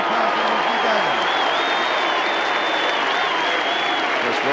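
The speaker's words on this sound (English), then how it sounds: "I think we should give him a big round of applause" A large stadium crowd at the 1989 VFL Grand Final between Hawthorn and Geelong at the MCG roars and applauds in a continuous loud wash, with a commentator's voice faintly over it.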